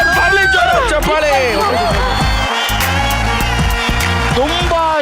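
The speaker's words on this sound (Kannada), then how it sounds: "ಬರ್ಲಿ ಜೋರ ಚಪ್ಪಾಳೆ." A game show studio audience bursts into loud, sustained applause and cheering, with whoops and crowd babble filling the room throughout.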